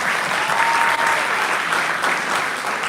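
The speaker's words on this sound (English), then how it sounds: "a big round of applause to the three panelists" A seated audience claps in a dense, even round of applause for three panelists, sustained at steady loudness throughout without a break.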